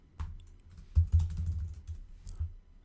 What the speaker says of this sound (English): Type in some text, change the text